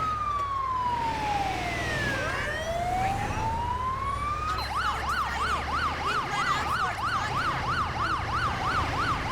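A video game Australian ambulance siren from GTA 5 LSPDFR sounds continuously, first a slow rising and falling wail, then a rapid yelping warble, loud and steady with no talk over it.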